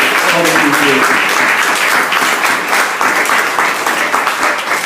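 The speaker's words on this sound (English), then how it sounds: "So give our mayor another round of applause." Loud, dense audience applause at the 2014 GLAA awards reception, a continuous close wash of many hands clapping that holds steady throughout.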